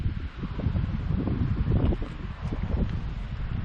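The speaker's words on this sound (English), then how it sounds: "it's very windy tonight" Strong wind gusts buffet the microphone outdoors at night, a steady loud rushing roar that swells and dips for a few seconds with no other sounds.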